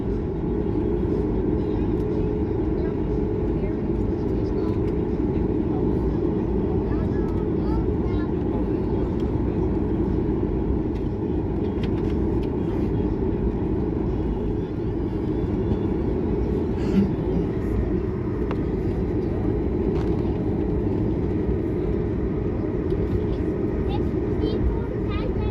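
An American Airlines airliner flying from Miami to Kingston takes off, its engines giving a steady, loud low roar with rumbling cabin vibration heard from inside, continuous throughout.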